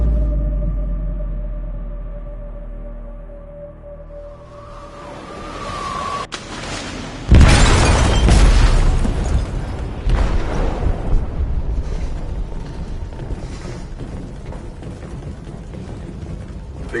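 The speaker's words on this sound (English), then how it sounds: "They detonated an explosive in the hold." Explosive detonated in a ship's hold in the video game Detroit: Become Human, a sudden heavy boom erupting after low rumbling ambience, then a long roaring, crackling aftermath with debris and creaking metal.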